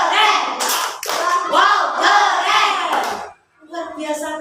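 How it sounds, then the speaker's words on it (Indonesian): A school class performs the 'tepuk keren' clap routine in the classroom, children's voices chanting loudly in rhythm with bursts of clapping, then a brief pause before the voices resume. "Luar biasa. Tepuk keren."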